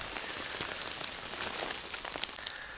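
Steady rain falls through a forest in June, a dense even patter of drops on leaves and surfaces, close and continuous, with occasional louder drips and no voices.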